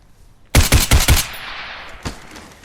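Rapid burst of four loud gunshots from the VR tactical shooter Geronimo VR, followed by a fainter single shot after a short pause, with echoing tail.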